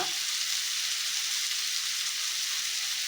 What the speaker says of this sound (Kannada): ಇದೆಲ್ಲ ಫ್ರೈ ಮಾಡ್ಕೊಳ್ಳೋಣ ಚೆನ್ನಾಗಿ